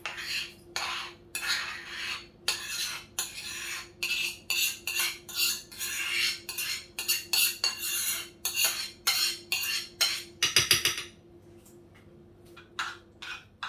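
A utensil stirring semolina in a dish, with a rapid run of scraping, clinking strokes against the bowl, briefly pausing near the end before a few more strokes.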